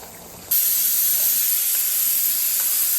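Mutton biryani gravy cooks in a pan after water is poured in, giving a sudden loud, steady hissing sizzle that starts abruptly and holds without pause, with no voices.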